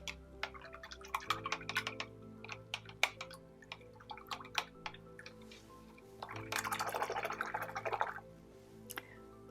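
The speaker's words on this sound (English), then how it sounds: "Okay, wash my brush." Paintbrush rinsed in a water container during acrylic painting, with close, irregular taps, drips and clinks, then a longer swishing splash of stirring near the end, fairly quiet.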